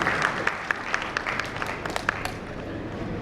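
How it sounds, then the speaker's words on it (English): Audience applause at a corporate marketing presentation for an HDFC Bank digital marketing executive, a steady dense patter of many hands clapping with a few sharper claps standing out, moderately loud and without talk. "Huge round of applause for her, please."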